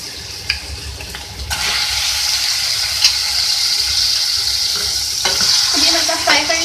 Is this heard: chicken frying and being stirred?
yes